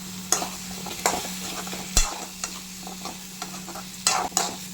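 Mutton curry with drumsticks being stirred in a pan, a spoon scraping and knocking against the metal in an uneven rhythm over a soft, steady sizzle.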